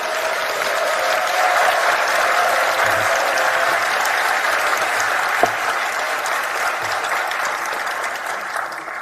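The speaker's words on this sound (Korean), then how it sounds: "큰 박수로 맞아주십시오" Sustained applause from an audience welcoming a pastor to the podium at a Korean church gathering, a steady dense wash of clapping that holds for about nine seconds with one sharp louder clap near the middle.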